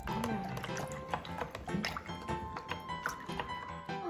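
Water tinted with food coloring is stirred in a container, giving soft, irregular sloshing and dripping splashes close by, mixed with background voices.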